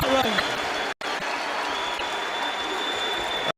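A boxing arena crowd at a Khan–Peterson fight roars and applauds in a continuous mass, with a commentator's voice briefly over the noise and two abrupt dropouts cutting the sound.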